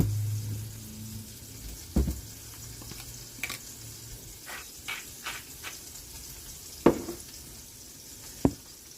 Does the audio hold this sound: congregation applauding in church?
no